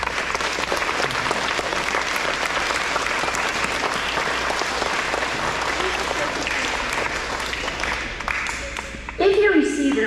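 An audience at an elementary school awards ceremony applauds, dense clapping that fills most of the stretch before thinning out near the end, where a voice begins speaking.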